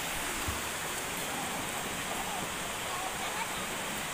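Water from a hose runs steadily while a motorcycle is washed at a free carwash, a constant close hiss and splash filling the whole stretch.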